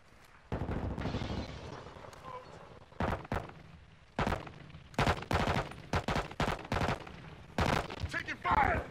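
Shooter video game gunfire: repeated bursts of rapid shots in clusters, some single cracks and short volleys, loud and close, with a faint voice murmuring early on.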